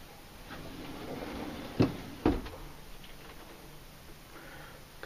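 A full extension drawer in an Adventurer 810WS truck camper being opened or closed, two quick soft knocks in close succession over a quiet indoor room hiss.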